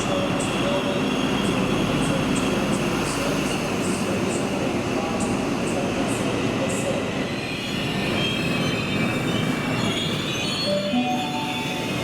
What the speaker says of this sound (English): XPT is based on the British Railway designed Intercity 125 train and entered service in April 1982.